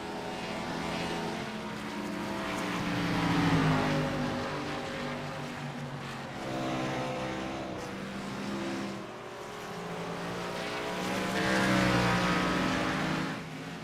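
Race car engines on an oval-style track with hairpins, droning continuously at moderate volume, rising and falling in pitch as cars pass and accelerate, with no talk over the sound.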